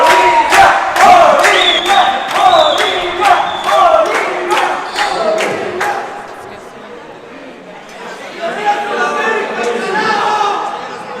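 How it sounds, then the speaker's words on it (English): A crowd cheers for Bolivia at the 2018 Racquetball World Championships women's doubles final against Mexico. Loud shouting and chanting swell in the indoor arena, with sharp ball slams early on and voices rising again toward the end. "And you can hear people cheering on Bolivia."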